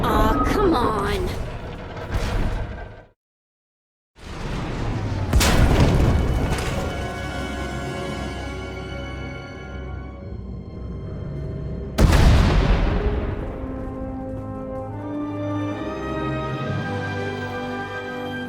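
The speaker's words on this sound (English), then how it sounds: "We heard explosions. The tunnel collapsed." Heavy explosions and a collapsing tunnel in the Star Wars: The Old Republic video game, with loud booming blasts and rumbling debris; a big impact near the start and another around the two-thirds mark over a dense game score.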